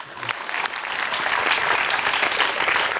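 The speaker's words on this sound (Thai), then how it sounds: "ปรบมือให้ไอคิวครับ" An audience on a Thai television business show claps steadily, the applause swelling in after a soft start and holding a dense, even wash of hand claps without voices.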